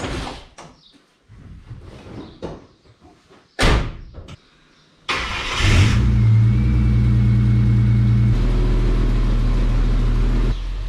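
A Nissan Patrol wagon arrives at a garage: a few sharp thuds and a car door slam, then the engine starts and settles into a loud steady idle with a low rumble close by, no talking.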